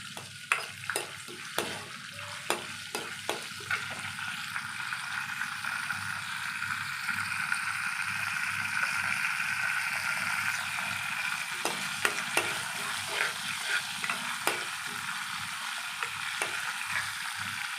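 Tempering spices, chana dal, urad dal and cumin, fry in hot oil as curry leaves go in, giving a continuous close sizzle broken by sharp clicks and taps of stirring, with no voices.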